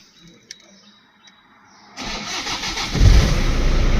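A few faint clicks, then a Toyota Vigo Smart 2.5E pickup truck engine cranks and catches, settling into a steady loud idle close by.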